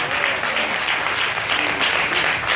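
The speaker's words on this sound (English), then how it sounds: "y'all clap" Church audience at a comedy show clapping loudly, a dense, steady burst of applause throughout with faint voices mixed in.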